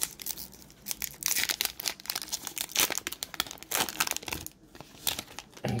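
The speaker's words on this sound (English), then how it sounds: "And now, on to the final pack. Here we go. Last rip of the day." Trading card pack being torn open, a close, quiet run of crinkling foil wrapper and tearing sounds in irregular bursts throughout.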